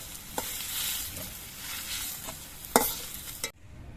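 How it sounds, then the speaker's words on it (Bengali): Salted potatoes frying in oil in a wok, heard as a close, continuous sizzle with a few spoon scrapes and one sharper clatter near the end, then cutting off abruptly into a near-silent hush. "আলুগুলো ভাজার সময় আমি অল্প করে নুন দিয়ে দিচ্ছি"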